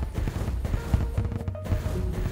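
The Flame Lash weapon fires in the video game Terraria, a dense run of rapid, crackling blasts and impacts, loud and continuous, layered over game sound.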